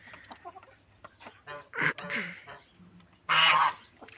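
Chickens cluck in a yard while a goose gives a couple of loud, close honks, the bursts scattered over quiet background with faint bird calls between.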